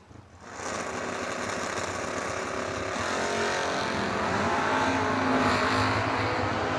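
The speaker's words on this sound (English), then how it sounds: "And the third-gen Camaro Carnahan has 17th thou in the pocket." Drag racing cars, a '66 Chevelle and a third-gen Camaro, roar at a bracket racing event, their engine noise rising and swelling steadily from a short distance.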